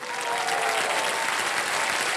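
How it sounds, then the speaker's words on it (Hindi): A studio audience on the game show Kaun Banega Crorepati bursts into steady, sustained applause, a dense wash of many hands clapping at once that carries evenly throughout, with no talk over it. "ताली बज जाए,"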